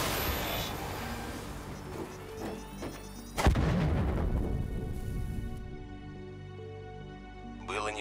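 In Call of Duty: Black Ops 3, a deep, booming explosion of a maglev train erupts amid rumbling game noise, followed by a long roaring tail and a fading electronic hum.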